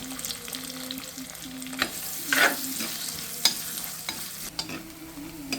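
Sliced onions and slit green chillies frying in oil for a fish curry sizzle steadily up close, punctuated by stirring scrapes and a couple of sharper spoon clatters, with no speech.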